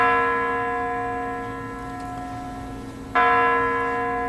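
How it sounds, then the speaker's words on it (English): Loud, resonant clock tower bell chimes with long ringing tones at Russia's WWII victory commemoration, one fading and a new strike sounding near the end, no voices present. "Just hear those chimes going"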